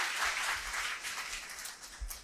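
A crowd at a political rally in Jamner, Maharashtra breaks into applause, a fairly faint, steady patter of many hands clapping for a couple of seconds with no talk over it.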